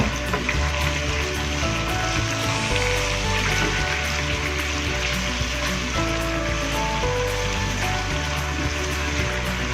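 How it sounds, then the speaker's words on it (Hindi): Ginger garlic paste fries in a pan for aloo methi, a steady loud sizzle with dense crackling spatter running unbroken throughout. "लहसुन का पेस्ट ऐड किया, इसको भूनना है, अदरक लहसुन पेस्ट को"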